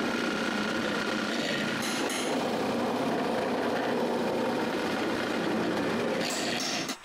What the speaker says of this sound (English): I begin by drilling 4 holes at the bottom of the sides.